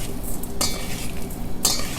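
A spoon stirs a small mix of salt and a pinch of icing sugar for a crackling spinach snack: a steady, soft scraping with two brighter scratchy bursts, close and alone.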